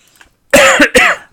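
A sudden double cough, two harsh close bursts in quick succession after a near-silent moment, loud and dry with no talking around it.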